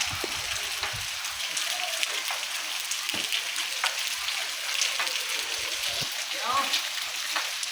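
Rain falls steadily in a village, a constant dense hiss of drops pattering on surfaces. A few scattered knocks and brief voices sound in the background.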